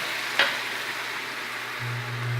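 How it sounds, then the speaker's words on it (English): White wine poured into a hot pot, a soft broadband sizzle hissing steadily under a brief clink near the start, with a low hum rising toward the end. "we're just going to deglaze it with a little bit of white wine"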